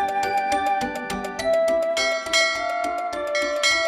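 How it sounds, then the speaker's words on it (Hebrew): A rabbi's hand bell rings in a rapid, continuous series of bright metallic strikes at a school, clear and fairly loud, with no talk. "מרחוק נשמע קולו של פעמון הרבי, המורה לילדים להיכנס לכיתה."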